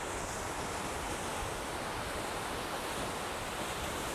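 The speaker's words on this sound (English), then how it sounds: "look how violent the water, look how violent that water is hitting" A 249-foot waterfall in Oregon crashes violently down, heard as a steady, dense roar of falling water, constant and unbroken from a short distance.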